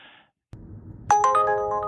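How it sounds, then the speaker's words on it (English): An Uber Eats delivery offer chime rings on a phone: a short pause, some low rustling, then a bright multi-tone ringtone that starts sharply and holds, close and clear. "your phone starts to chime"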